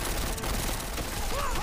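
Heavy gunfire in a Deus Ex: Mankind Divided battle: a continuous loud, dense clatter of overlapping automatic shots with no pauses, joined near the end by a faint rising whine.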